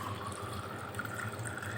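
Homemade lemonade (nimbu pani) pours into a glass in a steady, continuous liquid stream, close and moderately loud, its pitch drifting slightly upward as the glass fills.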